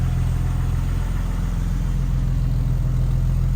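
A car engine with a Dana 44 rear axle runs steadily at a low, throbbing idle, loud and close, with a constant rumbling drone and no voices.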